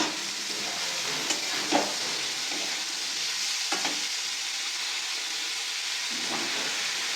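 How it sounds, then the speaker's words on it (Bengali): Cut potato, eggplant and carrot sizzle steadily in oil for a Bengali fish-oil dish, a continuous close frying hiss with a few soft stirring knocks and no talk. "এতে আমি মাছের তেলের জন্য আলু, বেগুন, গাজর কেটে রেখেছিলাম, এগুলো দিয়ে দিচ্ছি"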